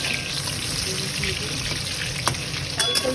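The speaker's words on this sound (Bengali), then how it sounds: "আলুটাকে একটু করে ভেজে নিই" Potatoes fry in a pan of oil for Bengali mutton kosha, a steady sizzle with faint clinks near the end, while a voice murmurs quietly underneath.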